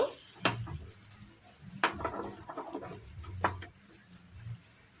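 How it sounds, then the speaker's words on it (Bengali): Lentil and egg batter hitting a hot oiled pan and frying, a steady close sizzle with a few sharp crackling bursts of spattering oil, no voices. "ডাল আর ডিমের মিশ্রণটা এবার আমি দিয়ে দিচ্ছি।"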